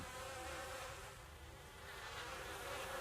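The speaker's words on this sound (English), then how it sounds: "Oh, bees. Flies." Bees and flies buzz as a sound effect in a tabletop fantasy game session, a steady, faint drone of insect wings that swells slightly and holds without talking.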